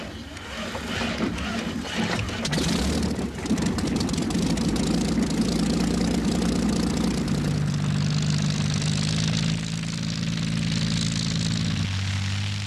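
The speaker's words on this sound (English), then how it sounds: "The Hawker Hind was in service with the RAF in the 1930s" A 1930s Hawker Hind RAF biplane's propeller engine drones steadily and loudly throughout, a continuous airscrew roar with a shifting low rumble and no voices.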